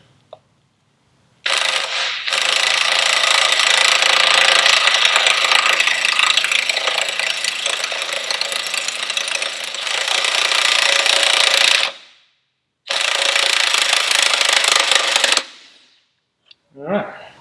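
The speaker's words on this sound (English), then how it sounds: "I'm just going to put the rattle gun on the end because I'm lazy." A rattle gun (impact wrench) hammers on the prop shaft of an Evinrude 150 outboard. A long, loud rattling burst of about ten seconds is followed by a short pause, then a second burst of a few seconds, close up.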